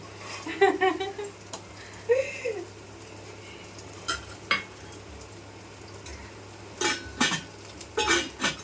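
Mutton kosha is cooked and stirred in a pot, with scattered scraping and clinking strokes of a spoon against metal over a low sizzle, close by, and voices talking in between.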